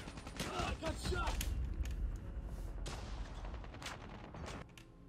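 Dense automatic gunfire and shotgun blasts in Call of Duty Mobile, loud overlapping bursts packed into the first seconds and thinning toward the end, with game voice callouts mixed in.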